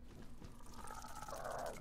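Water being refilled in the game ARK: Scorched Earth, a soft pouring and trickling sound that swells toward the end over a faint steady background.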